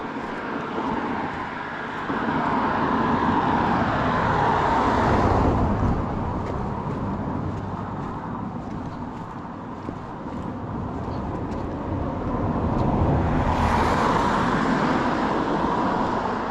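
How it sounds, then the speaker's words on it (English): Steady roar of cars and other vehicles on a busy countryside road near Stichill, swelling as passing traffic draws close around the start and end, with no clear talk. "So you can see it's quite a busy road for being in the middle of the countryside"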